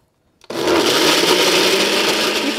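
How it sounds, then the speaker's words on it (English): Kitchen blender whirring loudly as it purees garlic, salt and pepper into a mojo paste, starting abruptly after brief quiet and running steadily and close for a couple of seconds. "adding your garlic, your salt, and your pepper to a blender. You want to blend it until it forms a paste."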